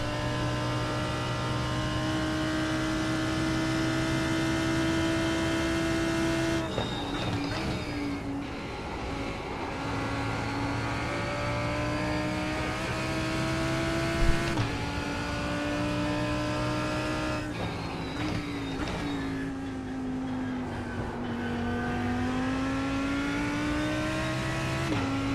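A race car in iRacing lapping the Bathurst circuit, its engine droning loud and close, rising and falling in pitch through gear changes and corners, with no talk.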